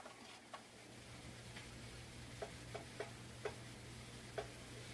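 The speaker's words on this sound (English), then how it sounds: "Now I'm going to put my garlic in." Chopped garlic goes into a pan of onions and peppers that have been frying for a few minutes, giving a soft steady sizzle with a handful of light ticks and clinks spaced through it, with no talking.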